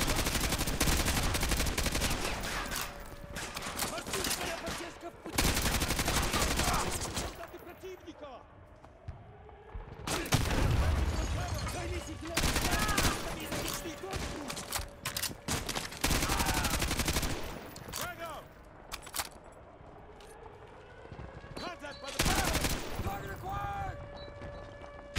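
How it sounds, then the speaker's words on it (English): Gunfire in the video game Modern Warfare 2 Remastered, with dense bursts of rapid automatic shots and single cracks in loud clusters separated by quieter stretches, with someone talking over the action. "Am I literally the only one shooting right here?"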